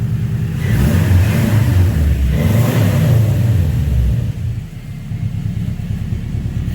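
A Toyota Corolla engine, newly brought back to running, revs loudly and close for about four seconds in a deep rumbling roar, then drops to a steadier throbbing idle.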